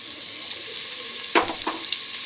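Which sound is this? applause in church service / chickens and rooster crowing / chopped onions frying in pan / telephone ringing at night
chopped onions frying in pan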